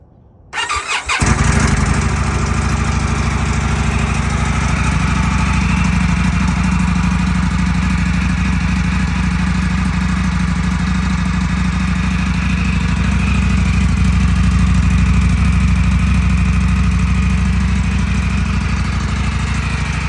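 A 2025 Indian Sport Scout Limited motorcycle with its stock exhaust cranks and fires after a brief moment, then settles into a loud, steady, close idle rumble.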